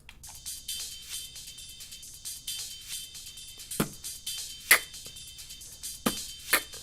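A ride cymbal part from a soundtrack beat, sliced into chopped fragments: irregular, stuttering bursts of bright cymbal wash with a few sharper accents, fairly quiet and without speech.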